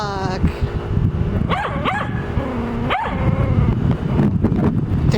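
Dog barking at a plastic bag stuck outdoors, with a few sharp, close barks and yips spread across a background of wind and outdoor rumble.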